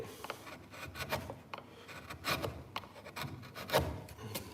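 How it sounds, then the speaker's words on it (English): A chisel pares hard wood on a violin-maker's bench, giving faint, irregular scraping and rubbing strokes heard close and quiet, with no talk. "this is definitely harder, this wood, and I think the chisel is definitely cutting too well for a guarnieri"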